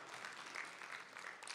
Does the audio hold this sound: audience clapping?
yes